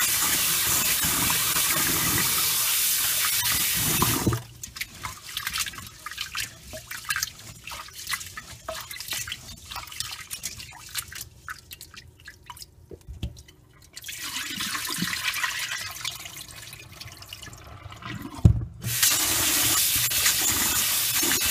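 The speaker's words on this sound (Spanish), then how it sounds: "Comenzamos lavando el arroz con abundante agua." Sushi rice being rinsed in plenty of water: a steady running-tap hiss opens and closes the sequence, with closer irregular swishing, dripping and splashing of grains and water in between.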